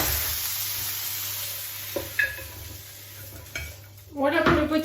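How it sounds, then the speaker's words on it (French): Potimarron squash sautés in a frying pan, with a soft sizzle, scraping stirs and a few clinks of utensil against pan, ending in a louder burst of stirring. "je vais mettre maintenant le potimarron pour qu'il revienne quelques minutes"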